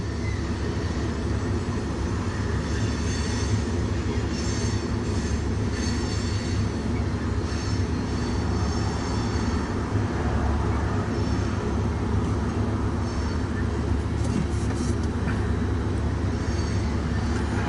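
A freight train passing on the Sioux City subdivision near Ashland, Nebraska, a loud continuous rumble of rolling cars with occasional wheel squeal and rail clatter, steady and close for the whole stretch.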